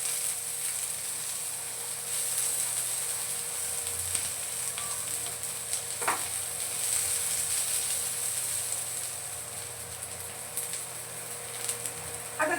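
Curry leaves sautéing in a pan for a Marathi katachi amti, a steady soft sizzle running throughout with one brief clack near the middle and no talk.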